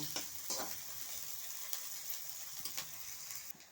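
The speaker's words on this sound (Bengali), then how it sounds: "তেল দিয়ে প্রথমে আমি পেঁয়াজটা দিয়ে দিচ্ছি পেঁয়াজটা আমি একটু নেড়ে লাল লাল করে ভেজে নেব" Onions frying in hot oil in a pan while being stirred for a silver fish curry, a steady close sizzle with occasional scraping stir strokes and light clicks, no voices.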